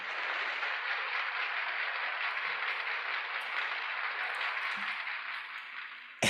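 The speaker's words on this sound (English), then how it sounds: "So at the end of a trick, if I want applause, I hit this button." Canned applause sound effect fired from a button in streaming software, a steady wash of clapping lasting several seconds and then cutting off abruptly, with no voices.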